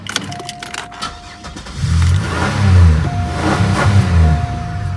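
A few clicks, then a van engine cranks and catches, settling into a low rumble that revs up and down a couple of times, close by.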